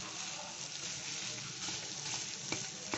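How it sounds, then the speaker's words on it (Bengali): A mashed potato and banana flower mixture sizzles and fries in a pan as it is stirred and sautéed dry, a steady close crackle with occasional scraping pops. "ততক্ষণ একটু ভালো করে কষতে হবে, শুকনো শুকনো হবে"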